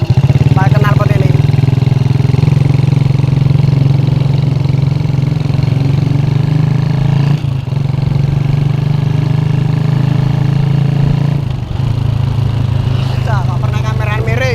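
A motorcycle fitted with a loud aftermarket exhaust throbs close by with a deep, steady low drone, dipping briefly twice with throttle changes while voices talk over it.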